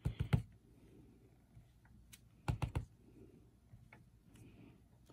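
Rubber stamp pressed onto card during card-making, heard as two clusters of sharp, close tapping clicks near the start and again midway, with a faint low background hum between them.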